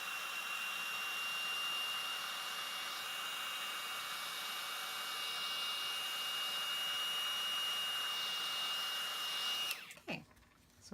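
A heat gun melting embossing powder on a stamped paper image blows a loud, steady airy roar for about ten seconds, then cuts off into brief close handling noise.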